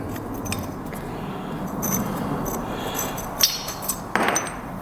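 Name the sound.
removing a brake caliper pin with a hammer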